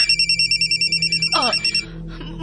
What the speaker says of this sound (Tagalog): May cellphone nga di bagting.